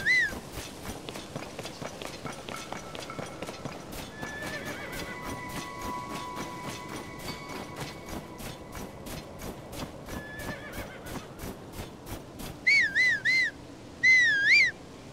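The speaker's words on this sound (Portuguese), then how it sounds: "Será que consigo subir aqui pro cavalo?" In the video game Zelda: Tears of the Kingdom, a horse's hooves clip-clop in a fast, steady rhythm, with two loud whinnies near the end and a brief neigh earlier, no talking.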